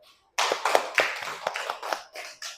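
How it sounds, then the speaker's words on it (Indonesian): A classroom group claps for group 2 of students, a dense burst of many hands slapping in quick irregular rhythm that starts abruptly and carries on steadily near the microphone, with no voices over it. "Tepuk tangan buat kelompok 2."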